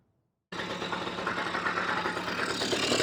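A 1979 Suzuki FZ50 motorcycle engine starts up after a short silence and settles into a steady, fairly loud warm-up idle with a constant low rumble and slight vibration.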